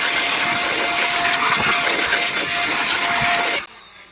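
Dust is blasted out of a retro computer with a loud, steady, airy hissing roar and a faint whine running through it. It holds close and constant, then cuts off abruptly near the end.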